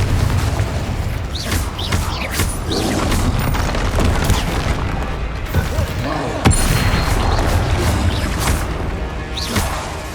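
Confringo explosion spells blasting during combat in Hogwarts Legacy, a loud dense barrage of booms and crashes with repeated sharp impacts over continuous rumbling game noise.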